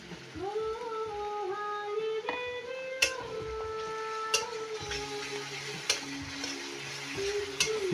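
Whole garlic cloves and spices frying in a pan give a steady, moderate sizzle, broken by occasional sharp clicks and scrapes of stirring.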